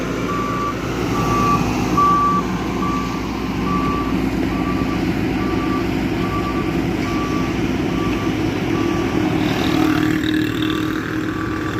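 Steady, regularly spaced reversing beeps from a dump truck ring out over the continuous rumble of its heavy engine, loud and close, with no talking.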